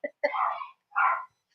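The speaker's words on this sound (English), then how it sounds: "There's barking and growling." Dogs outdoors give a few short, somewhat distant barks and yelps in two separate bursts, with brief silences between them and no talk.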